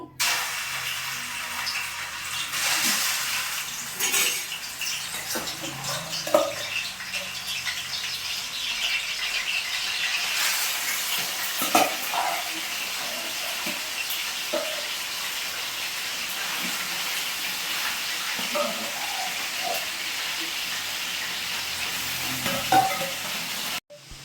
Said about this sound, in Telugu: ఆయిల్ వీటెక్కిపోయిందండి చికెన్ వేసేసుకుందాం